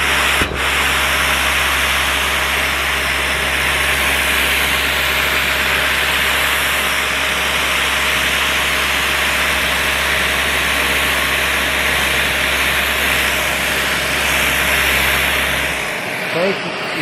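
A Mirka Deros electric sander runs steadily at 5,000 rpm on timber, a loud continuous whirring drone with a grinding rub that holds for about sixteen seconds before cutting off abruptly at the end.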